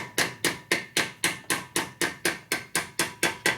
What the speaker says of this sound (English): usually what I do is just knock in with a hammer.